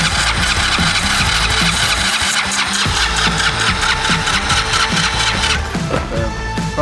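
A workshop engine with a loose belt and a suspect carburetor cranks and catches after lighter fluid is sprayed in, a loud close mechanical churning that settles into a rough running note near the end.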